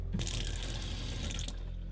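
Filtered water runs steadily from a faucet into a sink in an off-grid bus conversion, a continuous close splashing rush with no one speaking.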